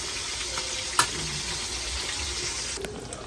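Chicken pieces fry in a pan with a soft, steady sizzle and hiss, joined by a single sharp clack near the start and a faint knock toward the end, close and moderately quiet.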